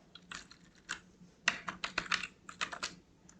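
Someone types C code on a computer keyboard in quick irregular bursts of clicky keystrokes, close and fairly soft, with brief pauses between runs and no talking.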